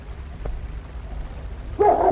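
Carlo the dog gives a short bark in a radio drama, one faint yelp early on, then a louder burst of barking near the end over a low background hum.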